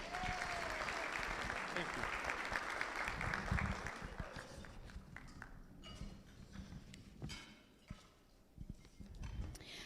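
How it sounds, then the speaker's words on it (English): Sustained crowd applause claps steadily at first, then thins and fades into scattered clapping, with a voice briefly heard. "give our San Antonio native Representative John Lujan a round of applause"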